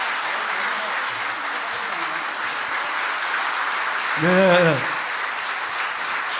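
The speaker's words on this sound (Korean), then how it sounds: "박수" A Korean church congregation applauds during a Sunday service, a steady, broad wash of clapping throughout, with a speaking voice briefly rising over it near the end.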